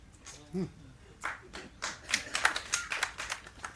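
A few people in an audience clapping unevenly at a speech, scattered close claps that pick up and grow busier toward the end, with a brief voice near the start.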